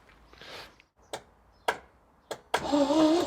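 Starter cranking the engine of a barn-find 16v British sports saloon left standing for 35 years: four short separate bursts of cranking, then a longer churning turnover at the end.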